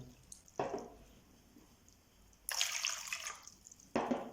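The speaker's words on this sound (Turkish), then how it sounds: "Yoğurma kabıma 2 su bardağı suyumu alıyorum." Water is poured into a kneading bowl in a few separate splashing bursts, close by but quiet, with hushed pauses between pours and no talking.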